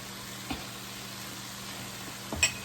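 Garlic frying in a pan for rasta pasta, a faint even sizzle over a low hum, broken by a couple of light clicks and taps of a utensil.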